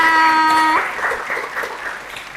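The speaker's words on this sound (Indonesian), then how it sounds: "Tepuk tangan semuanya." Brief applause from a game show audience comes in after a short electronic tone and carries on at a moderate level to the end.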